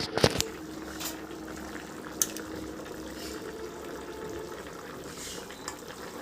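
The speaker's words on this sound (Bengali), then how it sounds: "এবার আমি দেখব যে তরকারিটা ঠিকঠাক ফুটেছে কিনা বা গলেছে কিনা আলু" Potato and pointed gourd curry bubbling softly in a pot, a quiet, continuous simmer broken by a few sharp clinks and pops near the start and again midway.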